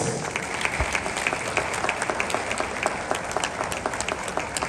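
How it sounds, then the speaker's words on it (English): Audience at a ceremony gives steady, sustained applause, a dense even patter of many hands clapping at moderate distance. "A round of applause."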